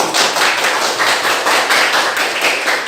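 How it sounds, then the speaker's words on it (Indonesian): A group of students at a junior high school classroom session clapping hands together in a fast, even, rhythmic pattern, loud and close, with no talk over it. "kita tepuk tangan untuk kita"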